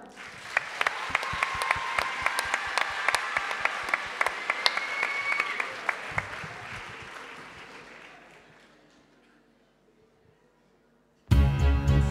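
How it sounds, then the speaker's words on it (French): An audience applauding a singer with sharp individual claps standing out, building to full applause that then fades away to near silence before another loud sound cuts in at the end. "On applaudit Olivia."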